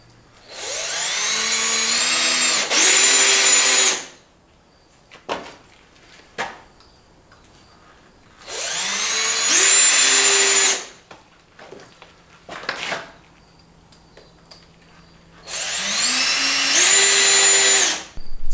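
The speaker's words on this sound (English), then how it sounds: "The front side of this 2x8, I'm going to sink some screws in" A power drill driving screws into the front edge of a 2x8 sill plate on a limestone foundation, three loud whirring bursts of a few seconds each, separated by quieter clicks and handling knocks.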